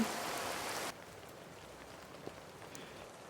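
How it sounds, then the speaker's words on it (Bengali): Steady rain falls outside, a dense hiss that is loud at first, then drops to a softer, even patter with a few isolated drips. "বাইরে বৃষ্টি পড়ছে"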